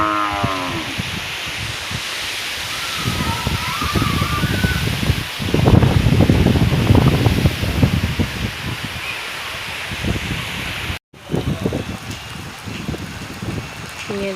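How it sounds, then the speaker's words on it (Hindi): Steady gusting wind from a cool windstorm roars across a Pakistani village, rising stronger in the middle, with rustling leaves and faint voices underneath. "ठंडी ठंडी हवाएं और आंधी आ रही है।"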